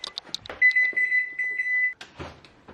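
A kitchen oven timer goes off for a baking loaf of banana bread with a steady, clear electronic beep lasting just over a second, set among light clicks and handling noises.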